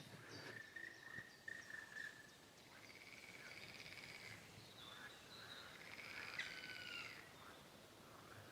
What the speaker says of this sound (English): choir of frogs that greeted me as I walked in.